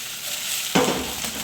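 Spring onions frying in a hot pan for beef and black bean sauce, a sudden burst of sizzle as the pan is shaken, then a steady close crackle with no talking.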